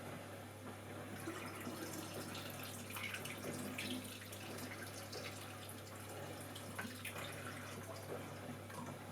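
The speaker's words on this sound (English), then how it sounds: "So it's time for all this fixer to come out now." Photographic fixer from a C41 kit pouring out of a developing tank, a continuous faint splashing stream of liquid with a steady low hum underneath, no speech.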